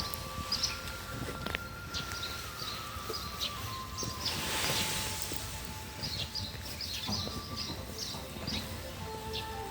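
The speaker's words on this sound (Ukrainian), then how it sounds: "Пташки співають." Birds sing outdoors in a spring garden among flowering plants, with short chirps repeating at a moderate distance throughout over a steady background hum.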